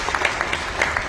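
Brief burst of audience applause welcoming guests at a felicitation ceremony in Gangapur, Rajasthan, a dense patter of hand claps with a few louder individual claps, steady and moderately loud.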